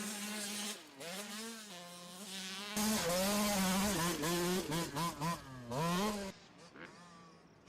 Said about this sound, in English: Schaff on the Cobra 50. He drops the hammer.